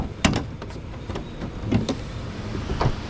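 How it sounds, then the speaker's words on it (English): Power windows on a 2017 Ford Fusion Energi plug-in hybrid rolling up and down, a close motor whir punctuated by several soft clunks as the glass stops, with no talking. "You can roll up the windows, you can roll down the windows"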